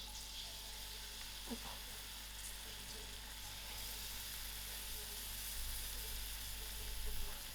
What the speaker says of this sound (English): I'll allow these onions to fry out till it's soft.